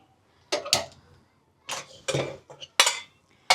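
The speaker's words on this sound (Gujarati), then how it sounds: "હવે કુકર મૂકી દઈએ આપણે કુકરમાં એક જ વેસલ કરવાની છે" Several metallic clanks and clinks as a pressure cooker is set down on a gas stove and handled, separated by short quiet gaps.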